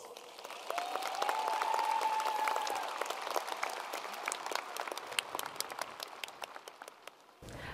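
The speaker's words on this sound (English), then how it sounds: "Please give them a round of applause." An audience at a 2022 high school graduation ceremony applauds, a sustained wash of clapping from a large crowd in a hall that fades near the end, with a faint voice briefly under it.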